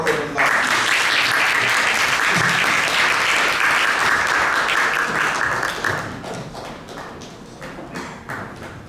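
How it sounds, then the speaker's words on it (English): An audience gives a round of applause at a United Nations Day of Peace event, dense steady clapping that thins and fades over the last few seconds. "Let's give our round of applause."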